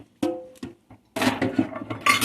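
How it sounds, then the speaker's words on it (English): A small frying pan clanks and rattles as it is picked up and set down in a home kitchen, a few sharp metallic knocks followed by busier clattering, close and fairly loud. "Let me get my small pan."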